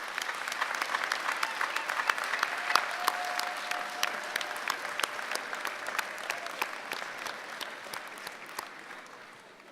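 Graduates at a college undergraduate commencement applaud their families, faculty and staff, a steady roomful of clapping that holds for about ten seconds and slowly tapers off at the end.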